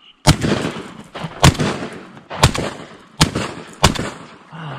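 Shotgun blasts ring out during a New Zealand duck hunt, five loud close shots in quick irregular succession, each with a sharp crack followed by a rolling echo across open water.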